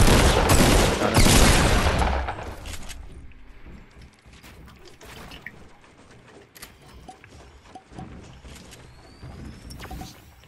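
A dense burst of rapid gunfire opens a solo-versus-squads battle royale fight, loud and close for about two seconds, then gives way to scattered, quieter shots, clicks and mechanical clatter.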